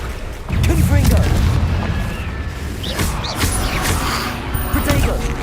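Repeated Confringo fire-spell blasts in Hogwarts Legacy, a run of heavy booming bursts close up that roll on for several seconds under a voice calling out.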